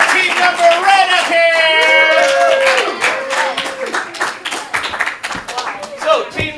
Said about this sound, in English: Big round of applause for Advice Panel!